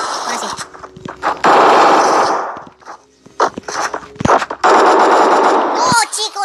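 MP5 submachine gun fired in a video game: loud sustained automatic bursts with sharp cracks and clatter, broken by short pauses, repeated across the stretch.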